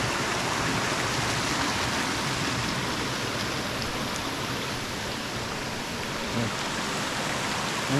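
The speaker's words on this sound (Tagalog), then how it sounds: "Ang ilog, may liguan." Steady broadband rush of a river flowing beside a campsite, continuous and fairly loud with no pauses, with no talking over it.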